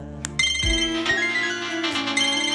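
A mobile phone ringtone plays loudly and nearby, a bright repeating melodic tune after a brief rustle, without speech.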